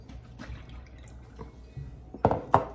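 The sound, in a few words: milk being stirred into Amish friendship bread starter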